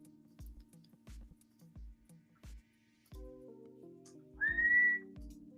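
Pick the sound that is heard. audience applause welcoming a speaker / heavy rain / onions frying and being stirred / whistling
whistling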